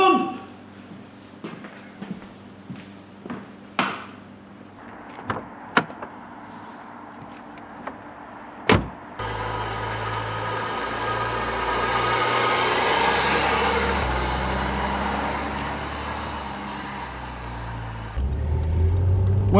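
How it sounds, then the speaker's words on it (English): A Rover 75 V6 executive saloon pulls away and drives, a steady engine and road rumble swelling after a door thunk and interior clicks, with talk heard inside the cabin. "Well, Monty, you're driving Rover's flagship executive V6 powerhouse."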